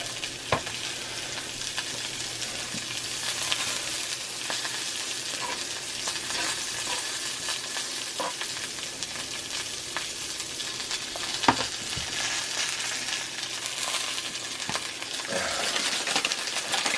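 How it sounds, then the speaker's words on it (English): Butter sizzles and crackles in a cast iron pan, making a steady frying hiss with scattered pops and small clinks, heard close and alone. "I got some butter in the pan."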